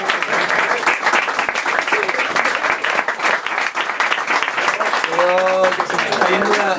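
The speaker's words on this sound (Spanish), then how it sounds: "Se me está yendo de las manos lo del aplauso." Applause from an audience at a book launch event, loud and sustained clapping, with a voice speaking over it toward the end.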